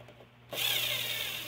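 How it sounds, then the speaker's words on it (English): A power drill whirs into a screw, a single steady high buzz starting abruptly after a quiet moment, close and fairly loud, during electric scooter battery assembly. "Now, we have a drill."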